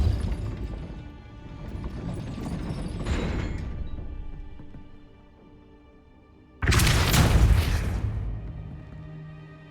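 Spell effects from Hogwarts Legacy, with a rumbling mechanical build and fade, then an abrupt loud burst and crash as the Depulso force-push blasts out.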